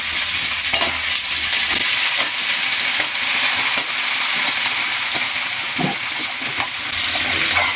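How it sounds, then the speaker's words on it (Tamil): Moringa drumstick pieces are stirred into golden sautéed onion in a hot pan for a dry murungakkai varuval, with a loud, steady sizzle and scraping stir strokes close up. "இப்போ நறுக்கி வச்சுக்கிற முருங்கைக்காய் போட்டு கிண்டிக்கலாம்."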